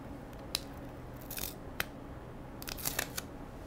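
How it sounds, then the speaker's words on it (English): Adhesive backing being peeled off the sticky tape of a Dexcom sensor, a handful of quiet crisp crackles and snaps at close range in a quiet room. "remove the adhesive backing from the sticky tape"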